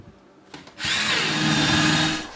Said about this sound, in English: I'll drill this out and feed it down through the floor.